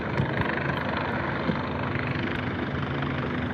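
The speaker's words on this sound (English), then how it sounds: "There's the rescue helicopter right there." Steady broadband rotor and engine roar from a rescue helicopter circulating overhead near Dead Man's Curve, a dangerous mountain road curve, continuous and moderately loud with no talk over it.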